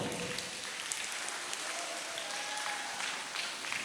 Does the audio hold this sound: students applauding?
yes